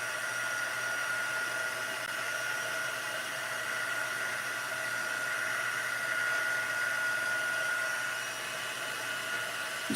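A heat tool or dryer blows steadily over a freshly stamped card, a constant airy whir heard close and alone for the whole stretch.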